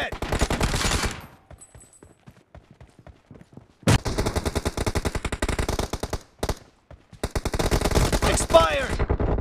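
Bolt-action M24 sniper rifle shots in PUBG Mobile, a cluster of sharp loud cracks rattling in quick succession, a pause, then more bursts of gunfire with heavy echoing reports, close and dominant.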